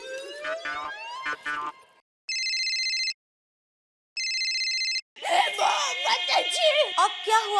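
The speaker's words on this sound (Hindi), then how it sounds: "मैं टप्पू के पापा को फोन करती हूँ।" A phone rings in two electronic bursts separated by silence, with people talking before and after the rings.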